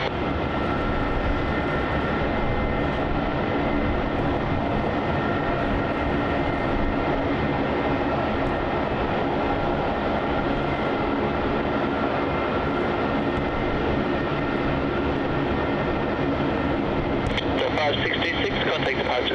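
A Jetstar Airbus A320-200, flight JQ566 bound for Brisbane, takes off on runway 27 at Melbourne Airport, its steady broadband engine roar sustained throughout, with radio voices from air traffic control heard over it.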